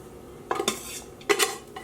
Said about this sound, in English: I am going to throw my rice in, get it all mixed up